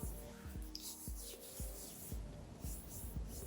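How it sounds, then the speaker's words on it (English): Silicone primer rubbed onto a face by hand, a soft, close, rhythmic scuffing of repeated strokes at a steady pace, faint and without any talking. "all I do is I rub it on my face like so"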